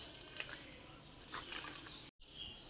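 Water is poured from a container into stiff rice batter for punugulu fritters, a faint trickling and dripping splash in a quiet kitchen, broken by a brief silent gap.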